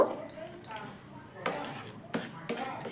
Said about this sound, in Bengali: লবণটা দেওয়ার পর খুব ভালো করে মিশিয়ে নেব